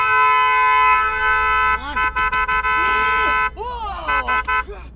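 Car horn honking loudly and close, a long sustained blast followed by a string of short repeated toots, with a voice speaking between the blasts.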